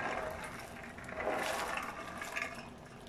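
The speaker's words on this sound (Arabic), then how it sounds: "ازوده مية سخنة" Hot water is poured over chickpeas in a pot, a steady splashing, gurgling pour that lasts the whole moment at moderate volume, with nobody speaking.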